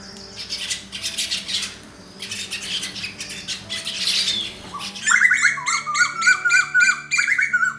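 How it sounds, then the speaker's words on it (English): Birds squawk and chirp in an organic terrace garden, with harsh calls at first giving way to bright, repeated whistling chirps that grow louder and busier toward the end, heard alone and close. "The chirping of the birds"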